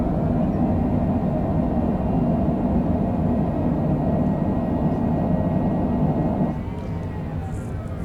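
An airliner rolls out after landing at Ketchikan, Alaska, its thrust reversers giving a loud, steady low roar heard from inside the aircraft, easing slightly near the end.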